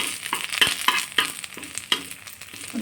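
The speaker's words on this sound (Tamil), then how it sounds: "எண்ணெய் அதில் ஒரு சிட்டிகை அளவு சோம்பு, கருவேப்பிலையும் போட்டு" Fennel seeds and curry leaves sauté in hot oil while making a potato fry, giving a soft sizzle broken by a few sharp crackles and pops over about three seconds.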